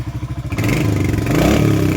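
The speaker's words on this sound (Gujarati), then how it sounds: "હવે આપણે બુલેટનું ફાયરિંગ સાયલેશન સુની એનો કેવો અવાજ આવે" Royal Enfield Bullet motorcycle engine firing up close by, a steady thumping idle giving way to a louder, sustained rev, with no voices over it.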